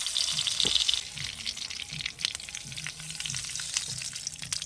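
Fennel seeds and black cumin fry in hot white oil with a loud, continuous crackling sizzle, dense and close, with scattered pops and a few faint low knocks from the pan.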